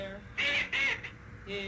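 A voice imitates a duck in a Sesame Street scene, giving two quick, nasal, raspy quacks close up, followed by a faint trailing vocal sound.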